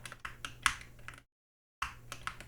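Arrow keys on a computer keyboard tapped in quick, quiet bursts of light clicks, with a short silent gap in the middle before the tapping resumes.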